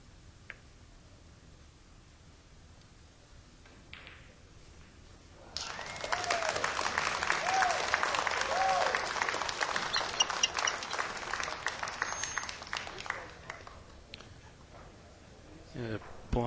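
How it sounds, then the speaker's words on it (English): Two onlookers at a 9-ball pool match on a 9-foot table clap in the background, a moderate burst of applause lasting several seconds, faint and a little distant, with quiet room sound before and after. "the applause in the background is Alex and Shane"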